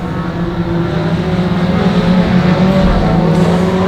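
Dirt track race cars roar past at Monarch Motor Speedway, a loud steady engine drone with layered humming tones that swell slightly as they go through the infield.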